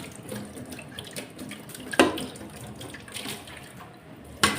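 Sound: washing under running tap water

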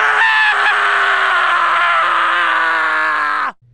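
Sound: Sonic scream in Japanese from Sonic Adventure 2 video game

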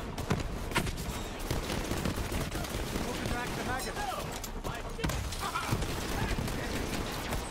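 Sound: gunfire shooting robots in the video game Borderlands 3

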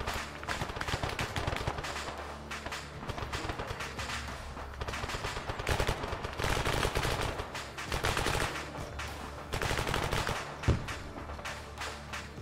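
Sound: gunfire during an attack in the video game Arma 3

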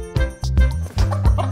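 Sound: hen clucking

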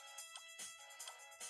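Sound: phone ringing in the Delicious Emily's Taste of Fame video game

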